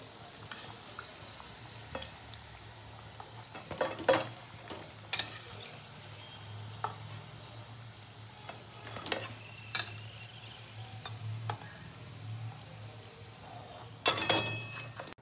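Layered flaky pea-filled kachori deep frying in oil: a soft, steady sizzle runs throughout, broken by occasional sharp clinks and scrapes of a utensil against the pan.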